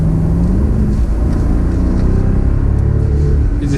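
Twin-turbo V8 of a BMW Alpina B7 pulls hard under acceleration, a loud, steady low engine drone rising in pitch, heard from inside the cabin.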